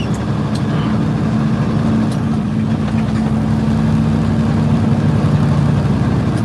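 A truck's engine drones steadily while it drives down the highway, a loud, even low hum mixed with road and wind rumble, with no talking.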